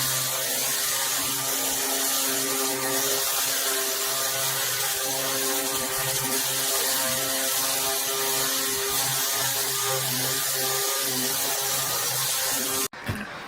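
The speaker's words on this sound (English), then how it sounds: "I got my 60 grit sanding discs. So, let's go sand." A disc sander fitted with a 60 grit disc works over a boat hull in a steady, unbroken drone with a constant motor whine, then cuts out abruptly near the end.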